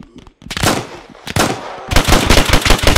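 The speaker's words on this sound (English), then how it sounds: "Serious firing going off over there" Gunfire in the World War II shooter Hell Let Loose: loud bursts of rapid machine-gun fire, starting with one volley, a brief pause, then a longer sustained stream of close, rattling shots.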